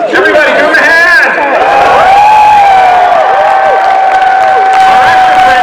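An audience at a Star Trek Voyager 30th anniversary convention in Las Vegas claps and cheers loudly, with whoops and shouts from the crowd over sustained applause.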